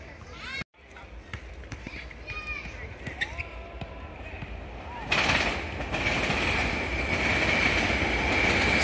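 A SEPTA Regional Rail express commuter train on the Trenton line rumbles past with clattering wheels and a brief squeal, growing louder and more roaring toward the end.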